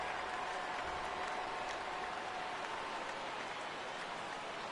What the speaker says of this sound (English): That rain is really coming down now